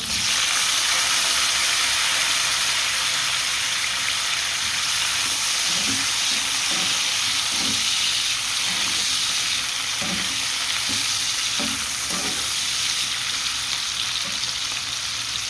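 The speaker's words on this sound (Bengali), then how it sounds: "তেল গরম হয়ে গেছে পেঁয়াজ কাঁচামরিচ দিয়ে দিচ্ছি বিসমিল্লা টমেটো দিয়ে দিচ্ছি" Onion, green chili and tomato hit hot oil in a pan, producing a loud, continuous sizzle and hiss with occasional soft stirring scrapes, close by and free of speech.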